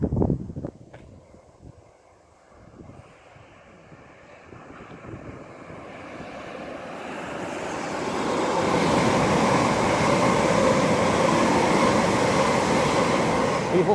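An Elizabeth line Class 345 train passing under the Sonning Road overbridge, first heard as a faint distant rumble that swells over several seconds into a loud, steady, close roar.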